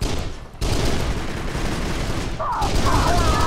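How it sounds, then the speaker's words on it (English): In the Kane & Lynch video game, a light machine gun vehicle fires as a dense, continuous burst of automatic gunfire that fills the clip, with a short break near the start and a brief tonal chirp toward the end. "they got a fucking light machine gun vehicle"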